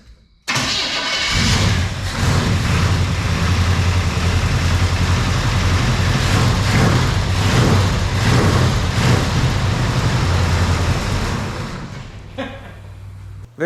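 Newly swapped engine in an '82 squarebody C10 truck cranks and fires, then runs with a loud, steady rumbling idle for about eleven seconds before shutting off.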